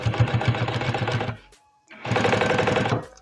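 Sewing machine stitching bias binding onto a placemat, running in a steady rapid rhythm for about a second and a half, stopping briefly, then resuming at the same close, even pace.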